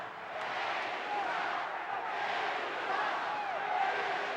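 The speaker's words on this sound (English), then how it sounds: "Can't quite pick up what they're chanting" A packed arena crowd chants at a WWE wrestling match, a broad sustained roar of voices rising and falling in waves, heard at a distance with commentators talking over it.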